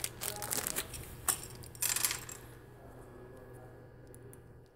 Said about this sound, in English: Let's put on the last 4 keycaps.